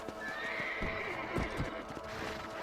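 Horse in the video game Red Dead Redemption whinnies loudly and close, with hoof clip-clop and game ambience running throughout the short stretch.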